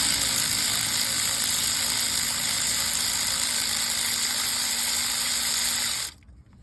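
A ratchet works a 10 mm bolt on the front axle of a 2013 GMC Yukon, a steady fast clicking with a mechanical whir close by that stops abruptly near the end.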